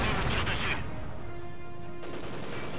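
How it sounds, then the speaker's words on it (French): An enemy assault gun fires during a Company of Heroes 2 battle, with a dense burst of loud booming gunfire at the start, then a lingering rumble and tonal hum, followed by continued steady battle noise. "Un canon d'assaut ennemi nous tire dessus!"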